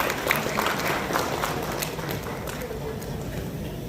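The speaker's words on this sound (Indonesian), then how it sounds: "Kita berikan tepuk tangan," An audience claps at a doctors' inauguration and oath-taking ceremony in Central Sulawesi, a moderately loud, dense patter of applause lasting several seconds with a busy hall murmur behind it.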